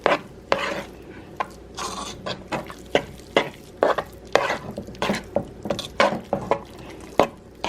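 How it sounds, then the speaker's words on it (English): A spoon stirs thick cheese sauce in a pot for creamy baked macaroni and cheese, making irregular wet scrapes and soft clacks against the pot, fairly close and repeated every half second or so. "we're just gonna mix this around"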